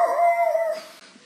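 People imitate dog howls, a long, loud, wavering vocal howl that rises and then fades out, heard alone without talk.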